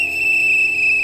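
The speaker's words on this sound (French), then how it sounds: "Il faut donner un coup de sifflet, je vous assure." A whistle in a Freddy animatronic horror video game sounds as one steady, sustained high tone held for the whole moment, loud and unwavering over a faint background hum.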